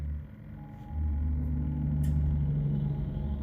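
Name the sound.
giant truck driving by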